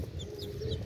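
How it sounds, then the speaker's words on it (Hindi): An Aseel rooster gives short, soft clucks close by against a low background rumble, with a few brief chirpy calls scattered through the moment. "ये असील मुर्गा आ गया देखो"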